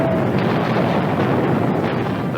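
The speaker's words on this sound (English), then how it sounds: "now crumbles under the merciless pounding of Russian artillery" Russian artillery bombarding Berlin in a 1945 newsreel, heard as a dense, continuous roar of blasts and rumbling booms that stays loud and steady throughout.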